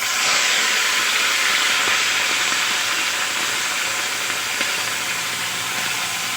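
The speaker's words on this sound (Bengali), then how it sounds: "এখন আমি মাছগুলো দিয়ে দেব।" Fish sizzle in hot oil in a pan, a loud, steady broadband hiss that lasts throughout with no talk.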